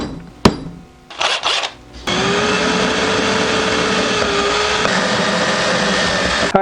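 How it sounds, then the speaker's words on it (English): A power drill bores holes into a handmade wooden jitterbug fishing lure, a steady high whine running for several seconds after a few short clatters and knocks of handling, close and fairly loud. "I want to drill a couple holes in here so that I can use it to fasten it to the face."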